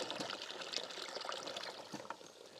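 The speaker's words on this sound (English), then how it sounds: "So this is the water coming in right now." Water trickles steadily into the source bucket of a ram pump system, a soft continuous splashing pour with no talk, close and moderately quiet throughout.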